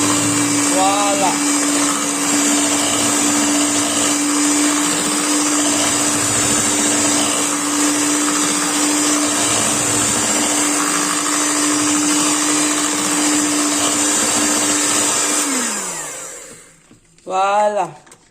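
An electric hand mixer whirs with a loud, steady motor whine as it beats a hair-colouring preparation, then slows and winds down near the end before a short final burst. A voice is heard now and then.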